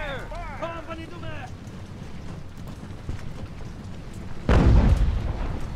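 Cannon volley in the naval strategy game Ultimate Admiral: Age of Sail, one heavy booming blast near the end with a rumbling tail, following a stretch of quieter battle ambience and a brief voice.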